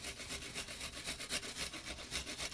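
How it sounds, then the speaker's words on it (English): Cheese and garlic grated on a kitchen grater, rhythmic rasping strokes up close, steady and fairly quiet, repeating about every quarter second. "If I grate cheese, I'll do it with garlic also"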